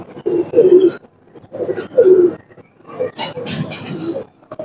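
Teddy pigeons coo in close, soft, throaty phrases that come in about four separate bursts with short pauses between them.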